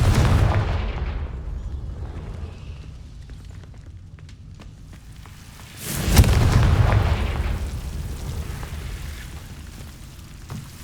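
A Confringo fire spell from Hogwarts Legacy bursts with a loud, deep boom followed by a rumbling, crackling blaze, over a low, steady background roar that swells again in a second blast partway through.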